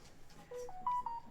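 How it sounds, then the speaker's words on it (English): A phone emits a few short electronic beeps in quick succession despite its volume being set off, faint and close, rising in pitch with no talk. "Stupid phone. Keep telling it volume off and it never does it."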